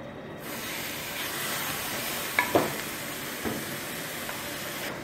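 Minced meat sizzling and frying in a pan with ginger and garlic, a steady hiss with a few brief clatters of stirring partway through.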